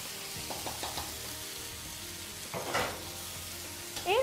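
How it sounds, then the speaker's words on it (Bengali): Garlic paste frying in oil for fried rice, a quiet steady sizzle with occasional clinks and scrapes of a utensil stirring, heard close and without voices. "রসুন বাটাটাকে ভালো করে ভাজা ভাজা করে নেব।"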